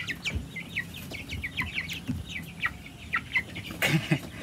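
Young chicks on a Philippine poultry farm cheep in quick, bright bursts, with scattered soft clucks and rustling from the flock close by.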